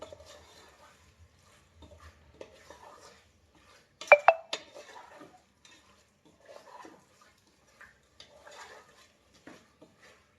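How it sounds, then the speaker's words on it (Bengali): Spiced masala being stirred and sautéed in a pan, with faint intermittent scraping and clinks of a spatula against metal and one sharper cluster of knocks in the middle, quiet and close. "এবারে এটাকে আমি ভালো করে কষবো অনেকক্ষণ ধরে কষবো আমি"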